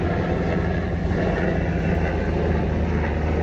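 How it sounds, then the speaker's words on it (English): A helicopter flying outside gives a continuous low droning rumble, steady and moderately loud, heard from indoors. "Don't mind like the helicopter out there"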